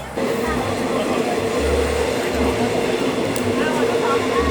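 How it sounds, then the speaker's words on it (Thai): A train departing a station rumbles steadily with low, throbbing engine pulses and a constant mechanical hum, with voices faintly mixed into the noise. "รถไฟออกจากสถานี"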